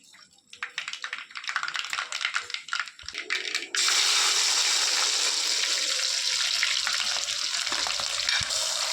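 Mustard seeds frying in hot oil in a clay pot for a Kerala fish curry: faint crackling and popping first, then a loud, steady sizzle that starts abruptly and carries on to the end.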